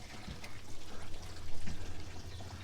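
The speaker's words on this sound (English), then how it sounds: "go ahead and put some water on it" Water pours and splashes unevenly onto wet dyed fabric nearby, a continuous trickling gush with small surges.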